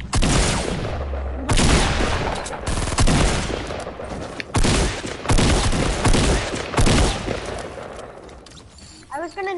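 Loud first-person shooter video game gunfire, repeated sharp shots and booming bursts in an irregular rhythm, with a voice talking over parts of it.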